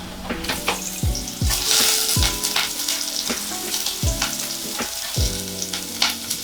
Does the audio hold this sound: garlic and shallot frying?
yes